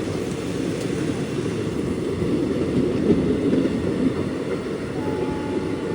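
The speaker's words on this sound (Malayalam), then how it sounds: "ട്രെയിൻ ഇപ്പോൾ കൊടൈക്കനാൽ റോഡ് സ്റ്റേഷൻ പിന്നിടുകയാണ്" The Amritha Express, Thiruvananthapuram to Rameswaram, rumbles steadily past Kodaikanal Road station, heard from on board as a continuous loud, broadband roar of wheels and carriage with no breaks and no talking.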